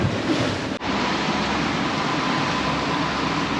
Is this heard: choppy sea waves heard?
yes